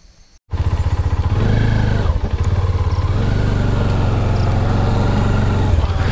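A motorcycle rides into a large resort near Maredumilli and Rampachodavaram. After a brief quiet start, its engine cuts in loud and close, holding a steady, throbbing rumble for the rest of the clip.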